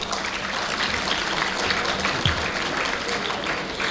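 Audience applause closes a masterclass at an induction programme, a moderate, even patter of many hands clapping without a break and no speech on top.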